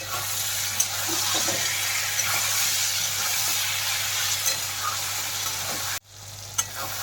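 Meat and potatoes fry in a pan with a steady, dense sizzle and occasional scraping stirs, close by, before the sound drops out abruptly near the end and then resumes more quietly.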